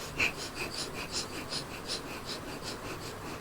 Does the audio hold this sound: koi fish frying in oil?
no